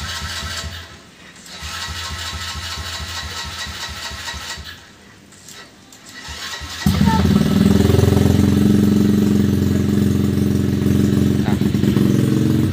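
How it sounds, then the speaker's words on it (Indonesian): A mini trail motorcycle engine is started up after some close clattering and mechanical noise. It catches and settles into a loud, steady idle as it warms up, with a person talking early on. "motornya udah kita keluarkan, jadi kita mau panasin dulu. Takutnya nanti nggak bisa hidup."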